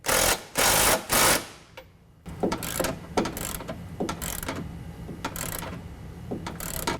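A ratchet wrench with a 13 mm socket tightens nerf bar bracket bolts to the body of a 2014 Chevy 1500 pickup, beginning with three quick loud ratcheting bursts, then continuing in a rapid series of close clicking strokes.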